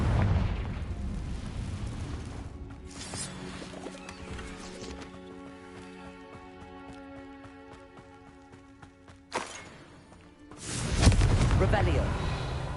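A Confringo fire spell explodes in Hogwarts Legacy. Sharp, loud bursts open and close the passage, with quieter rumbling and clattering game sounds between them.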